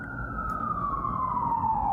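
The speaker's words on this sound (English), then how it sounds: "let's just wait for the sirens to go." Emergency vehicle siren passing outside, a steady wailing tone slowly dropping in pitch as it moves by, heard at moderate distance over low traffic rumble.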